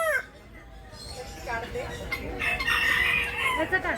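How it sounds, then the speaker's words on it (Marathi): Roosters crow at a bird farm on a rainy-season outing, one long crow rising loud near the end, with clucks and other bird calls scattered around it. "कोंबड्यांचं आरवणं पक्ष्यांचे वेगळे वेगळे आवाज"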